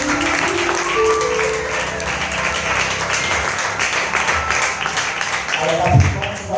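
Congregation applauding during a church thanksgiving service, a sustained wash of clapping with voices talking over it, ending in a slight swell.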